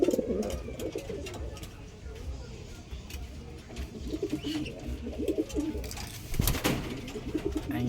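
Pigeons coo in low, throaty rolling phrases, several soft calls spread across the stretch with occasional clicks and a sharp knock near the end, fairly quiet.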